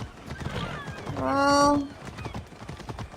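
A horse in the video game Assassin's Creed Odyssey lets out one clear, loud whinny lasting under a second, with soft hoof clops before and after. Someone speaks briefly over it.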